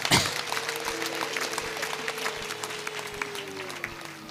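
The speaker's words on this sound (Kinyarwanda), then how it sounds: "Narinzi ko Yezu mugiye kumuha amashyi menshi" A church congregation breaks into sustained applause, a dense, even patter of many hands clapping at moderate distance, with a faint steady hum running underneath.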